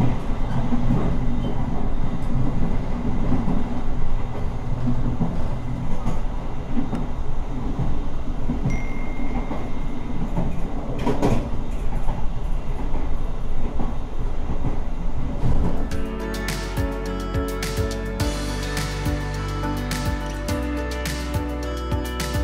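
KA Taksaka train running straight through Cikampek station, heard from on board as a loud continuous rumble of wheels and carriage noise, with a harsher rhythmic clatter setting in toward the end.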